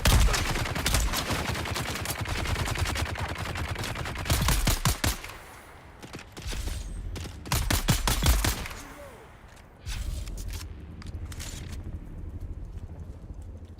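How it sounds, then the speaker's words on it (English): Bursts of gunfire from another player in a video game crackle in rapid volleys, loud and repeated several times, separated by quieter stretches of footsteps and background game ambience. "Somebody else shooting?"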